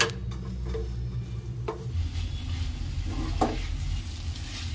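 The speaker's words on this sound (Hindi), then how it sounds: "गैस के फ्लेम को हम मीडियम पर ही रखेंगे और इसे हम अच्छे से मिक्स कर लेते हैं।" Torn wheat roti pieces tossed with spices in a hot pan over a medium gas flame, a steady sizzle with scraping stirs from a spatula, close and without talk.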